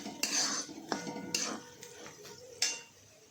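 A metal spoon clinks and scrapes against a pan while boiled potatoes for sabudana khichdi are stirred and checked; several sharp, close taps stand out over a soft background hiss, with no talking.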